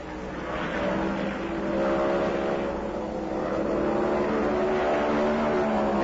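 Stock cars race in the 1974 Southern 500, a dense, continuous roar of engines from a pack running together, swelling and holding loud across the whole stretch.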